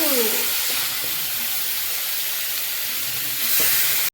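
Cardamom, cloves and cinnamon sizzle as they are fried down in a pan, a steady loud hiss of frying with faint stirring scrapes, close and continuous.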